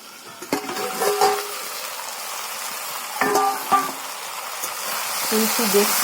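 Potatoes fry in a pan with a soft steady sizzle under a voice, with a few clinks from stirring.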